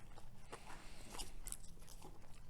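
Quiet, close chewing of crunchy, salty homemade sauerkraut eaten from a small fork, with soft irregular crunches and bites spread over a couple of seconds, no talking.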